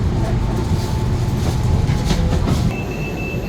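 Bangkok train ride with a steady low rumble of the carriage in motion, continuous and fairly loud, with a faint tone entering near the end and no clear talk.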